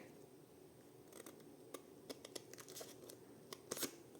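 Scissors snipping through a paper window envelope, a series of short crisp cuts and rustles in close, quiet indoor surroundings, with sharper clusters near the end.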